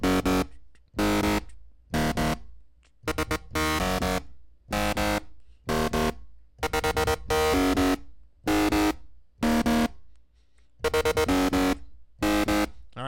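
A Techno 3 synth lead patch from the Logic ES2 synthesizer, used like a distortion guitar, plays loud, bright bursts of notes in a choppy rhythm, separated by silent gaps.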